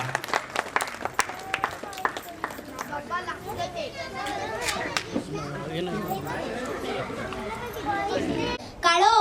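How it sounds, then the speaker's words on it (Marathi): Crowd at a Shivaji Maharaj Jayanti celebration breaks into scattered clapping and cheering amid children's chatter and overlapping voices, sustained and fairly loud throughout. "टाळ्या वाजवत स्वागत करा."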